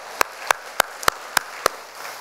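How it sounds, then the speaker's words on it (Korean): A congregation at a Catholic healing retreat claps in unison, six sharp, evenly spaced claps ringing out in a quiet hall before stopping. "성모님께 감사의 박수를 보내겠습니다"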